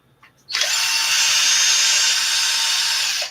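A power drill whirs at a steady high pitch for about three seconds while working on an Arrma 6S RC car front differential, starting abruptly and cutting off at the end, close and loud.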